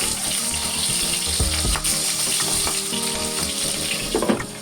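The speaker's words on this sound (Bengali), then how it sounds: "চিংড়ি মাছগুলো একে একে এই তেলের মধ্যে দিয়ে ভালো" Turmeric-and-salt-coated prawns frying in hot mustard oil, a dense, loud, continuous sizzle with crackling pops and a few clinks.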